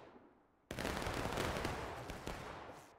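Musket fire in the War of Rights game at the Antietam Anderson map erupts in a sudden loud crack, then a dense ragged volley of shots keeps crackling, with a second sharp report near the end.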